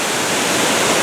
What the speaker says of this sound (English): I just wanted to show you the ferocity of this water.